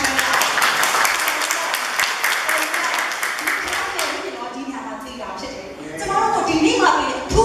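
At an Assemblies of God church service, the congregation bursts into loud clapping in praise for several seconds. The clapping then fades under music and voices.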